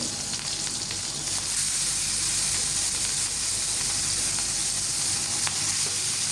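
Pieces of coral fish frying in plenty of very hot oil, a steady loud sizzle and crackle that holds evenly from start to finish with no talk.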